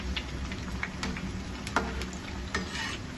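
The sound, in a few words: frying on a medium flame in a pan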